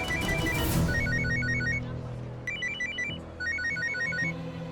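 An incoming call sets a telephone ringing with repeated bursts of a bright, warbling electronic ringtone. The rings come in quick trilled groups over a low background hum, and no one speaks.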